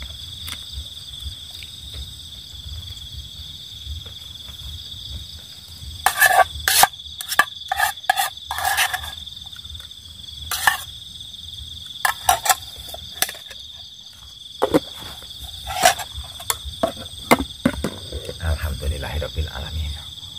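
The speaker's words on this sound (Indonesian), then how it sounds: "suara petak kodok" Frogs croaking near a river or ditch at night, bursts of rapid clustered croaks coming and going over a constant high insect drone, fairly close, with no talking.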